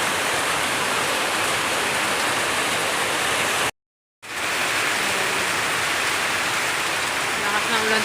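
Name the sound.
heavy rain pouring outside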